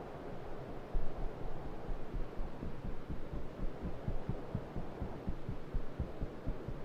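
Footsteps in PUBG with an audio bug, a dense run of low thumping steps on concrete and grass, fast and steady with a throbbing quality under loud ambient hum, with no one talking.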